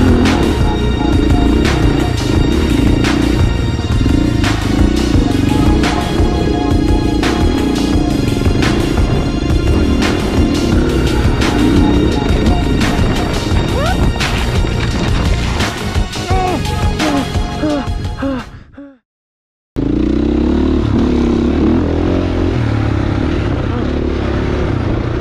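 A dirt bike climbs high alpine single track, its engine buzzing and revving loudly and continuously with wind noise. The sound drops out briefly near the end, then the engine picks up again.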